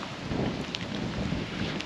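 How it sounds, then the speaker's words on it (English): Wind at Avebury buffets the microphone in a continuous low rumble, with no voices, just a steady roaring gust noise throughout. "it's very windy today."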